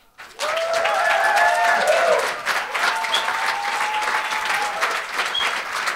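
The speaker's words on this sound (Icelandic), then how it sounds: "klappa fyrir þeim" An audience at a symposium breaks into applause, starting abruptly and then holding as steady, dense clapping throughout, with a faint tonal sound and voices blended in beneath.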